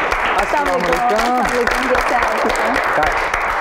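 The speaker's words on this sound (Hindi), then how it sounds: "बहुत सारी तालियों में" A television talk show's studio audience applauds loudly and steadily as a guest is welcomed, and a voice talks over the clapping throughout.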